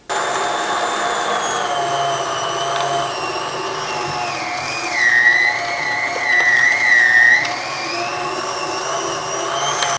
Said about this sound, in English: let's go ahead and start grinding.